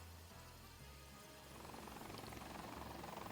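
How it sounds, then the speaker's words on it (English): A video game helicopter flies off, its steady rotor whir low and distant at first, then growing into a faster rhythmic chop as it lifts away, with no voices. "Come on, fly the helicopter out."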